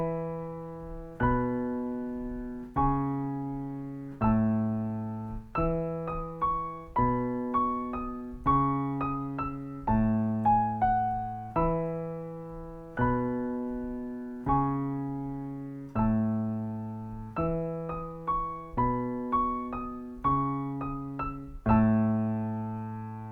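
A solo piano plays a simplified pre-chorus of a song, struck chords ringing and decaying in a steady, unhurried sequence, close and clear with no voices.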